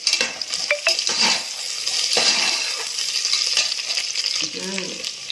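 Onions and green chillies frying in oil for mushroom pulao, a loud continuous sizzle with scraping stirs and light metal clinks from a spoon on the pan, up close with no talking.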